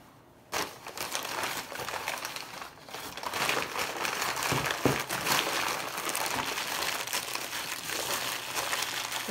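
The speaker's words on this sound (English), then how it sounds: "Sorry for the noise with that paper," Wrapping paper around small thrifted items is crinkled and crumpled at close range, starting with a sharp rustle and continuing as an uneven stream of crackling bursts.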